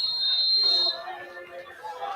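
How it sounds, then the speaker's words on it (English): A referee's whistle at a high school football game gives a shrill, steady blast lasting just under a second, followed by crowd and field ambience with commentary voices in the background. "Whistle blows."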